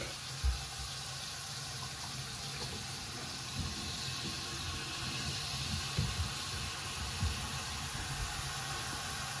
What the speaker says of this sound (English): we're going to run some water just to be sure it doesn't leak.